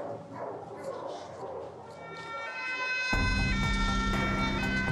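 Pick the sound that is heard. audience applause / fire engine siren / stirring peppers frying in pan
fire engine siren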